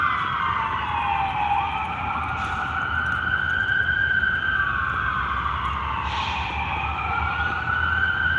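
Emergency vehicle sirens wail outside, two overlapping rising and falling tones sweeping continuously over a steady background rumble, fairly loud but somewhat distant.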